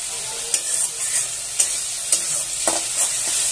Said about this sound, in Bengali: এখানে ভালো করে এটাকে মশলাটাকে ভেজে নিচ্ছি